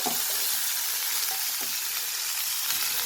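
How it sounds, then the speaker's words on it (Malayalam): Onions and curry leaves sauté in hot oil, giving a dense, even hiss of frying up close, with a couple of faint stirring scrapes near the start and middle and no voices. "കരിവേപ്പില ഇട്ടു നല്ലോണം വഴറ്റണം"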